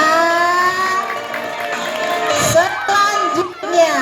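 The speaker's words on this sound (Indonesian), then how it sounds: "Iya, tepuk tangan untuk Fadil." An audience at a school Kartini Day fashion show cheers and shouts for Fadil, with children's voices and whoops rising loudly under an announcer's speech.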